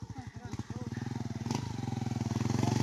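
A small, low motorcycle passes close by on a hillside road, its rapid pulsing engine note building steadily louder as it approaches, with people talking over it.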